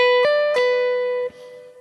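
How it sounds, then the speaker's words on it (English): A single sustained electric guitar note with two quick pitch changes from a hammer-on and a pull-off, ringing alone with bright clean harmonics before being cut off. "A hammer-on sounds like this."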